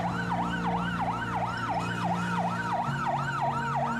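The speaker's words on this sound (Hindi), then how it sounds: "हर 10 मिनट में एक एम्बुलेंस आ रही है, शायद उससे भी ज़्यादा फ्रीक्वेंटली।" An ambulance siren wails in a fast, regular up-and-down cycle, loud and close, over a low engine and traffic rumble as it arrives at a hospital during the COVID surge.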